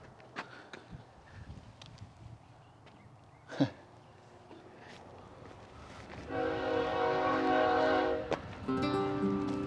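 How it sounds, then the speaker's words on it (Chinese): A coal freight train approaches across open desert near abandoned railcars along old Route 66: a low, distant rumble builds, then a sustained, harmonic horn blast sounds for a few seconds, followed by a shorter horn note. No one speaks. "哇，你看对面啊，那火车开过来了，"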